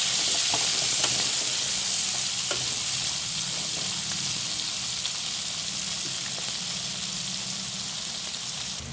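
Brinjal, tomato and green chilli curry ingredients frying in a pan for a fish gravy, giving a steady, loud sizzle with occasional scraping stirs, no talking.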